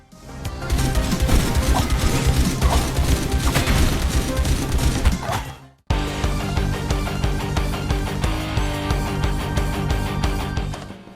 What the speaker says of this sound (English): battles sound chaotic and lively with gunfire and explosions